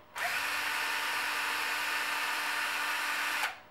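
A cordless Makita power drill whirs steadily at high speed for about three seconds while driving a screw into the chassis guard of an HPI Savage XS Flux RC car, starting and stopping abruptly, close and loud.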